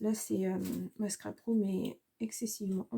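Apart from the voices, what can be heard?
No distinct noise like a dog, phone or traffic.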